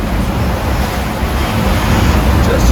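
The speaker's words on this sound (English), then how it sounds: "The seas were pretty rough for a while." Rough open sea off a sailboat running near 20 knots, with constant loud roaring wash of waves and heavy wind buffeting the microphone, a dense unbroken rumble.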